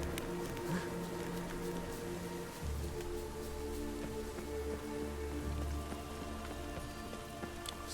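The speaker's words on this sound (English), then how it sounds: "Witches have conjured rain." Witch-conjured rain in the video game The Witcher 3 with the W3EE mod, a steady dense patter of rainfall on surfaces with a low rumbling undertone, continuous and fairly close throughout.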